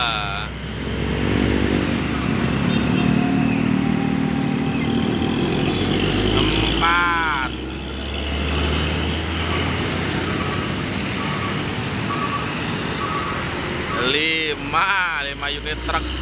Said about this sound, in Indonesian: 5 unit truk, dump truk ya.